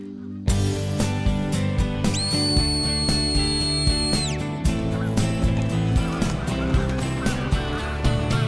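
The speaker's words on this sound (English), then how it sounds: "Just whistle." A handler gives a sustained two-tone whistle command to a border collie herding flocks of geese at an airport, heard clearly over a dense bed of music and bird noise.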